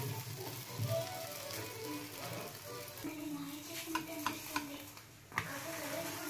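Bobbatlu flatbread roasts with oil on a hot pan, a soft steady sizzle with a few light taps and scrapes, partly under faint background voices.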